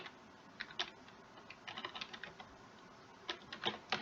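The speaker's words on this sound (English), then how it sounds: "So for example, if we wanted to type in," Fingers typing on a computer keyboard, quiet close-up clicks in short irregular bursts with brief pauses between, no talking.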